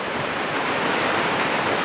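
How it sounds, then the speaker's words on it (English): Waterfalls on a forest trail near Hemlock Glen camp on the Morgan Hill long loop, a steady broadband rush of falling water, close and loud throughout with no voices. "Unbelievable waterfalls."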